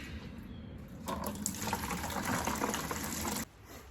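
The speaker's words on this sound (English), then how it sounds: "just try to drain as much as I can out of here into a bucket so it doesn't make a big mess" Coolant drains from the radiator of a Ford truck with a 5.8L V8 into a bucket, a steady gushing pour for about two seconds that starts and stops abruptly.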